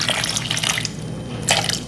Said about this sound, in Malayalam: പിന്നെ കുറച്ച് വെള്ളം ഒഴിക്കണേ,